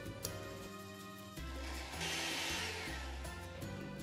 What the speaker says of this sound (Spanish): lo llevamos a licuar